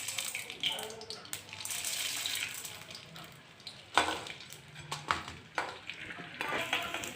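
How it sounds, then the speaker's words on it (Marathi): Edible gum is added a little at a time to hot oil for ladoos, frying with uneven bursts of sizzle and sharp crackles, stirred and scraped, with a voice speaking intermittently. "आता आपण डिंक तळून घेऊया। कायम डिंक तेलात टाकताना थोडा थोडा टाकायचा।"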